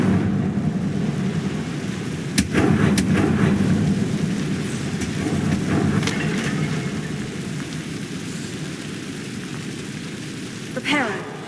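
Incendio fire spell cast in Hogwarts Legacy: a continuous crackling, rushing roar with a few sharp snaps on top, fairly loud and steady throughout.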